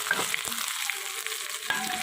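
Crushed spices splutter and fry in hot oil for an Andhra-style tomato dal tempering, making a steady close sizzle dotted with small crackling pops.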